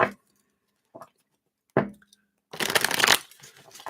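A deck of cards shuffled for a reading: a few short riffling bursts near the start, then a longer dense shuffle, heard close up with no talk.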